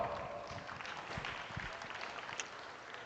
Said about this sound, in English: let's give these breeders, exhibitors, and everybody getting these heifers ready a nice round of applause.